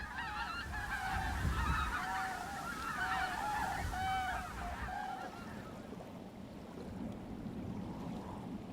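A flock of wild geese honks repeatedly on the ground in Germany, overlapping calls near to mid-distance over a low watery rumble, the honking fading out in the last few seconds.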